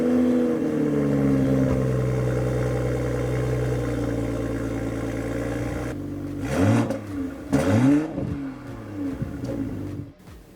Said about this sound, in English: let's go ahead and take a listen to that B58